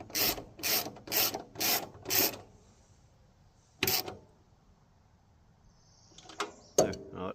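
Five quick, even ratchet strokes tighten a small bolt during sawmill assembly, followed by a pause, one more click burst, and a few scattered mechanical clicks and knocks close by.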